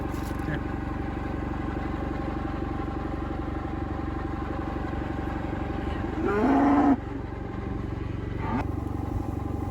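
Heifers on a farm give a loud, close moo near the end, rising above a steady low engine-like drone that runs throughout, with a brief clatter earlier.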